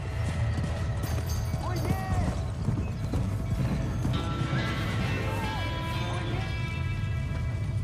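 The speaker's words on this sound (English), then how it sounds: "John bravely rescues the trapped horses" Horses in Red Dead Redemption whinny in two bursts and their hooves clip-clop steadily over a dense game soundscape with other background sounds.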